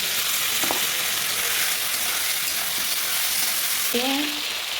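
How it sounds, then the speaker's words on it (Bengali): Potatoes with salt, turmeric and ginger–green chili paste stirred in a hot pan, a steady close sizzle with a few soft scraping strokes throughout. "লবণ আর হলুদ দিয়ে আমি ভালো করে নেড়ে নিচ্ছি"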